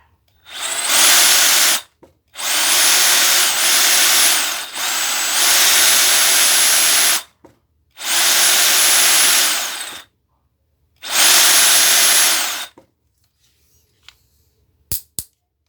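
Bosch GST 18V Li cordless jigsaw running in five loud, steady bursts of about one to two seconds each, separated by short silent pauses, with a high whine over a buzzing motor and no talk.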